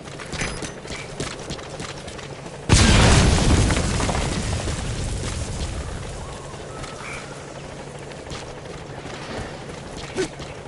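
A single loud C4 explosive blast detonates in Metal Gear Solid V, a sudden deep boom that rolls off slowly over several seconds, with only faint scattered ambient ticks before and after and no talking.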